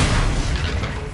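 A Confringo blasting curse explodes in Hogwarts Legacy, a loud, dense boom with heavy low rumble that fills the whole moment without a break.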